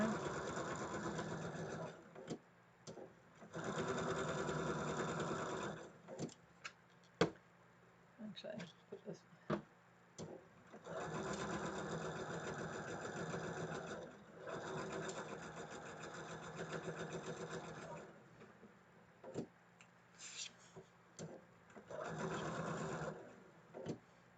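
A sewing machine stitching the corner of a quilt block runs in steady whirring bursts of several seconds each, close and fairly loud, separated by short pauses and small clicks.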